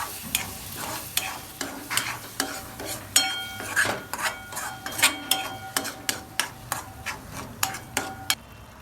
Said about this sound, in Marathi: बघा याच्यात दोन तीन चमचे दही टाकू आपण चांगलं हलवून घेऊ